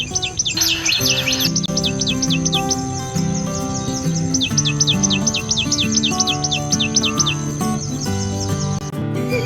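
Sharp, repeated high chirping notes from a tailorbird ring out in quick bursts over a continuous low background drone.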